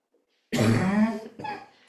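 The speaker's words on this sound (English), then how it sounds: "Sorry, I have an acid reflux problem. It makes me cough." A woman coughs during a yoga class because of acid reflux: a loud, close burst of about a second, then a shorter, softer cough right after.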